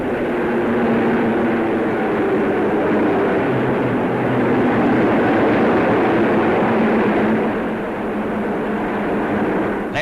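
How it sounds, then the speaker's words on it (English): Broad, loud roar of RAF Meteor jet fighters of Fighter Command passing overhead in a coronation review flypast, with a continuous heavy rumble and no talk. "Meteors now of Fighter Command."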